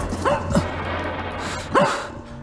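Two short, high puppy barks about a second apart, close by, over a steady low hum in the background.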